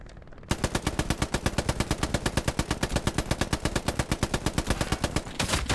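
Sustained machine gun fire in the WWII shooter Hell Let Loose, a light MG firing a long, rapid, evenly spaced stream of loud shots that runs almost without pause after a brief quiet start.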